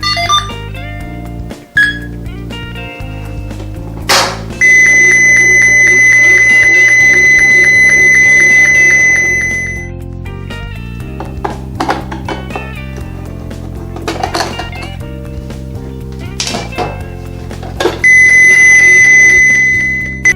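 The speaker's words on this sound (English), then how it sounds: "Forced entry, tamper alarm." A DG 195 standalone digital keypad's tamper alarm sounds a shrill, steady electronic tone for several seconds, then sounds again briefly near the end, with clicks and handling noises between.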